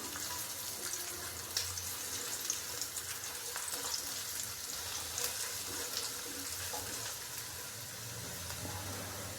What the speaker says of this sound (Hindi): प्याज को लाइट ब्राउन होने तक थोड़ा सा फ्राई कर लेंगे